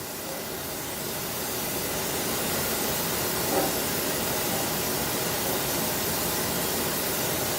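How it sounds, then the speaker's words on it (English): A steady, loud hiss of cooking spray coating a pan runs continuously for several seconds, close up and alone without any voices. "I just spray it real good in the sides."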